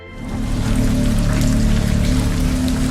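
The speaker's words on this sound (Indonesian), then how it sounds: "pada malam harinya, hujan turun begitu deras" Heavy night rain in a film, a dense steady roar of downpour that swells in quickly and continues loud and unbroken, with a low rumbling undertone.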